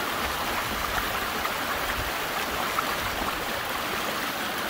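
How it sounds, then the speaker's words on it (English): A river at McHugh Creek rushes below a snowy bridge, a steady broadband wash of flowing water that stays even and continuous throughout, with no voices. "The river's down below."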